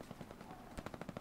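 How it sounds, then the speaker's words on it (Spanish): A rapid burst of sharp gunfire-like cracks from a grenade explosion in the video game Hell Let Loose, dry and punchy, repeating in quick succession at the end of a short stretch of noisy background. "Hostia, el sonido de la granada real, ¿eh?"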